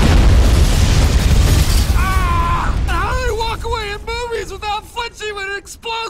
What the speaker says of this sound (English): When it explodes behind them, there's no way!